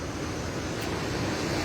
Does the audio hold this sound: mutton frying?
no